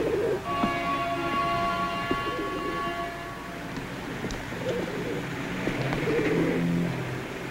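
Pigeons coo softly in low, throaty calls against a steady background rumble, with a faint tonal whine fading out early.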